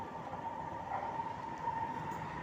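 Low steady rumble of a Singapore MRT metro train passing, heard from a sixteenth-floor apartment, a constant hum with a faint tonal whine, distant and without talk.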